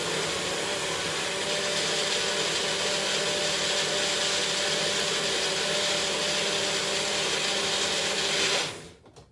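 A blender whirs loudly and steadily, grinding spinach, banana, berries and seeds into a smoothie in a dry cup, a continuous mechanical roar that cuts off abruptly near the end.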